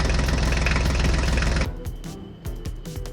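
Ford tractor engine running with a steady, dense mechanical rumble that is loud at first, then drops and becomes rougher with intermittent knocking bursts.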